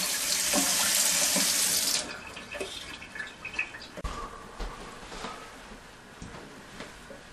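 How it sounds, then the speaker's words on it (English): A cold tap gushes loudly for about two seconds over rice being rinsed and then shuts off, followed by quiet clinks and light rustling in a sink. "And then you rinse the rice in cold water."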